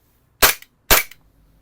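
Two sharp, loud shots from an Umarex VFC G17 Gen 5 MOS airsoft pistol fired semi-auto, about half a second apart, close and alone.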